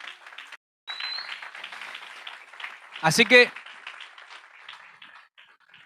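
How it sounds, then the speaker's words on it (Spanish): Church congregation clapping in praise, a soft steady patter of many hands that swells briefly, heard faint and roomy while a voice speaks over it. "Dale un aplauso al Señor"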